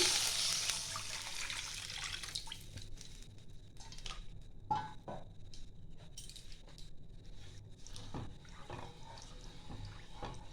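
About a litre of milk poured into a pan for semai payesh, a soft, steady liquid splash and trickle with a few small clinks, close by and fairly quiet.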